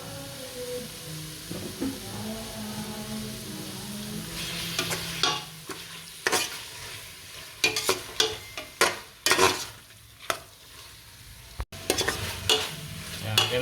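Beef for kaldereta seasoned with fish sauce sautéing in a pan, a soft sizzle under repeated sharp scrapes and clatters of a spatula stirring, fairly close, with no talk.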